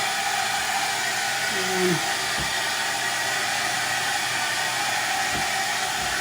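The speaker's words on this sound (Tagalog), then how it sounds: "Hair dry na tayo. Handa na natin yung ating dryer." A hair dryer blows steadily and loudly nearby, a constant broad rushing whoosh, with a brief voice and a couple of small knocks heard over it.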